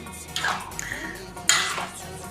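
A spoon scrapes and clinks against a pot twice, with soft wet sloshing as a curry puff beef filling is stirred close by.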